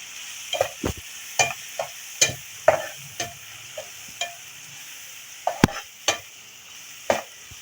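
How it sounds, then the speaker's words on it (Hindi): Spices and tomatoes mixed in a hot cooking pan, a faint sizzle under a series of sharp spatula scrapes and knocks against the metal, close and irregular. "ये सारी चीज़ों को हम मिक्स कर लेते हैं"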